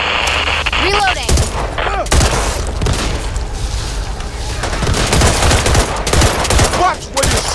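Loud, rapid automatic gunfire and booming shots in the zombie shooter Back 4 Blood, played on an Xbox Series X, with bursts layered over shouted voices and game chatter throughout.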